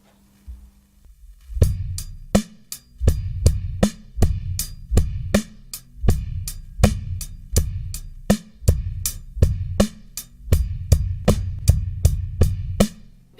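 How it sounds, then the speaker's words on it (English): An eighth note groove on bass guitar plods in a steady even pulse of plucked notes, close and clear with a crisp percussive attack on each beat, running continuously with no voices. "today we're going to have a look at some eighth note bass grooves"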